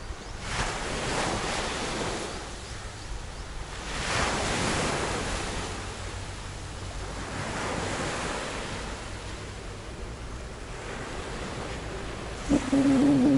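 Sea waves wash onto a beach at Miami Bay in Penang, a steady broadband surf roar that swells and recedes in slow surges, with some wind buffeting the microphone.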